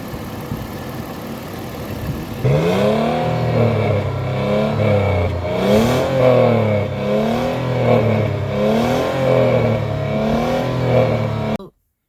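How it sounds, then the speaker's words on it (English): A 2010 Toyota Land Cruiser Prado TXL V6 idles quietly, then rises into a steady, close engine note with repeated swelling revs that rise and fall in a regular rhythm before cutting off abruptly. "So you can hear the V6 engine"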